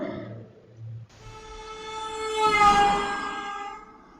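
A single sustained car horn blares and swells as the car moves past, rising in loudness then easing off as it passes, preceded by a brief faint tone.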